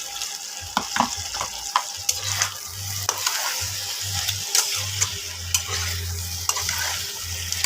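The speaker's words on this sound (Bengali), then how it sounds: "চিকেন ভাজাগুলো দিয়ে দেবো বন্ধুরা" Fried chicken pieces in a pan for chili chicken sizzle steadily while a spatula scrapes and taps against the pan in a loose, repeated rhythm, close and without voices.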